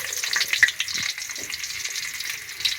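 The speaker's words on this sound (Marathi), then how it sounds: "तेल तापलं आहे लसूण टाकून घेऊ" Garlic sizzles and crackles in hot oil in a pan over a wood-fired stove while being stirred, a close, steady frying hiss with small pops and no talking.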